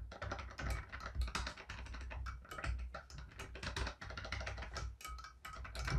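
A SNK Neo Geo Arcade Stick Pro joystick and buttons are worked rapidly, giving a dense run of crisp plastic clicks and taps with irregular rhythm, close and fairly quiet.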